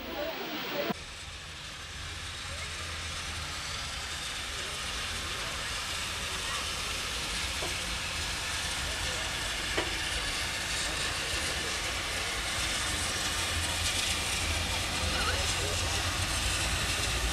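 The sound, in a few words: steam locomotive 403 departing in a cloud of steam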